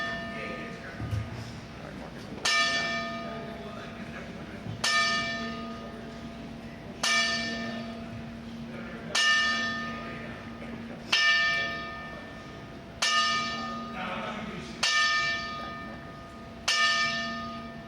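A large bell tolls slowly in tribute, each strike ringing out and decaying before the next, about eight strokes heard at steady intervals of roughly two seconds, with a low hum and murmuring voices underneath.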